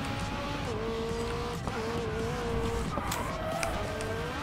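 A McLaren 570S in a racing video game drifts with steady engine drone and long tire squeals as it slides through corners, skids repeating in sustained stretches with small pitch shifts.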